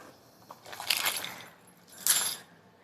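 Keys clipped to a travel backpack jangle in two short metallic bursts, the second brighter and louder, close by with no talk over them.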